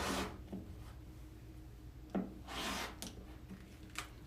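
A rotary cutter slicing fabric along a Creative Grids ruler while trimming a log cabin quilt block, heard as several short, close rasping strokes with soft shuffles between them.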